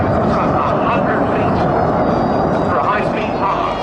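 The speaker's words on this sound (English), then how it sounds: "This is the Typhoon that replaced Blackjack" A Eurofighter Typhoon jet displaying at the Cosford airshow, its loud, steady engine roar filling the air close by, with no break for the whole stretch.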